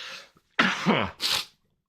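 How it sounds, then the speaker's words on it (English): One person sneezes, preceded by a short throat-clearing sound; two sharp bursts close to the microphone, then silence. "Here comes the first sneeze."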